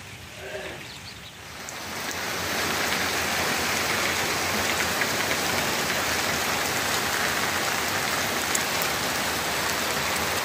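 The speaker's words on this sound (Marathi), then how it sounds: "अक्षय तृतीयाला झाला पाऊस आणि आज पाऊस" Steady rain falls outdoors, a soft patter that swells within the first two seconds into a dense, continuous hiss and holds evenly to the end, with no voices.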